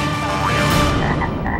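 A frog in Thailand croaks loudly and close by in one rich, rasping, continuous call lasting under two seconds.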